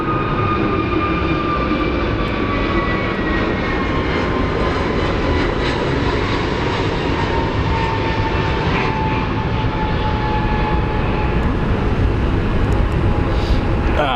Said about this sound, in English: That is actually our plane that's headed to Ontario.